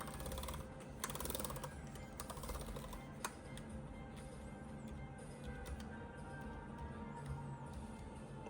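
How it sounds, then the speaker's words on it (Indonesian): Keys clatter in quick, uneven bursts on the keyboard of a 2024 ROG Zephyrus G14 OLED laptop, the soft clicks close and steady over a faint room hiss, with no talking. "Selanjutnya kita coba tes keyboardnya."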